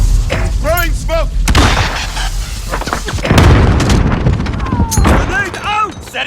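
A grenade and explosions in a multiplayer shooter game match, heavy booming blasts and rumbling gunfire mixed with loud clipped radio-style voice callouts, close and intense throughout.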